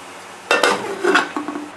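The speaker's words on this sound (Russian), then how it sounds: "Накрываем его крышкой." A metal lid is set onto a cooking pot of simmering rice: two quick clanks, then a short settling rattle and a few lighter clinks, close and fairly loud, with no voices.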